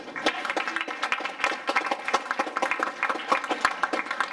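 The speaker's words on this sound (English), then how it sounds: "Give yourself a round of applause" Participants at a college speech tournament applaud themselves, a moderate crowd of distinct, sharp claps in a steady patter that continues throughout.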